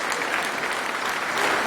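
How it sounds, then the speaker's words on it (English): A room full of people at an awards presentation breaks into dense, steady applause, loud and continuous without pause, with no speech over it. "And if you're at home, let's clap."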